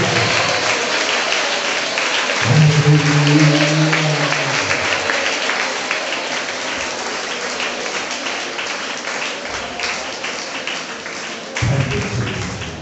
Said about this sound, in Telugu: గట్టిగా చప్పట్లు కొడుతూ స్తోత్రాలు చెప్తాం.